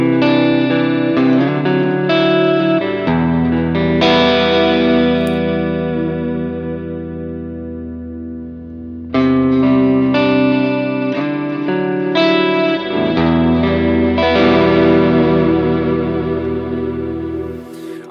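Electric guitar runs through an HX Stomp ambient reverb with feedback turned up, sustained chords swelling into long washy tails that fade, then a fresh strum rebuilds the shimmering wall of sound.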